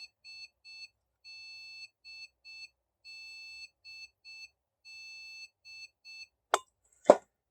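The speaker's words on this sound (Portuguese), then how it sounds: "Ver se o bip para." An Asus J1800I-C motherboard gives a sequence of high, electronic error beeps in short and long bursts with brief pauses, followed by two sharp clicks at the end.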